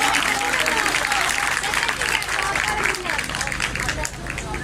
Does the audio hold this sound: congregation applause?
yes